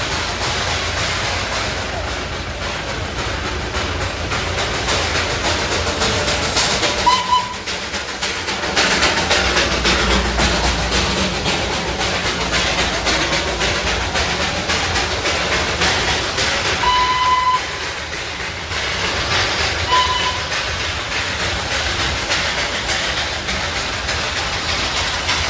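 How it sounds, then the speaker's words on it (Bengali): A train rolls along with a loud, continuous rumble and rattle of carriages in the Darjeeling hills, with brief horn-like tones sounding a few times over the steady running noise. "চলো এখন ট্রেন চলে এসছে আমাদের"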